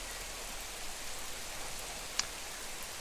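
Steady rain in the lemonade-selling video game Lem-Amaze, a soft, even hiss of falling drops on a cold day, continuous and fairly quiet, with one brief faint tick partway through.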